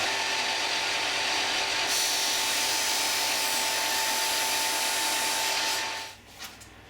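A disc sander grinds steadily against wooden parts of a 12-string guitar under construction, a loud continuous whirring rasp with a shift in pitch partway through, then spinning down to near silence at the end.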